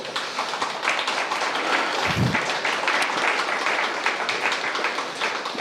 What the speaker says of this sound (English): I'm calling for applause